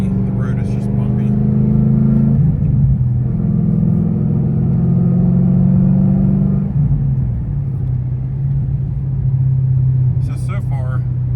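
Ford Mustang S197 on a test drive over a bumpy road, its engine giving a steady low rumble and drone inside the cabin with slight shifts in pitch; no one speaks.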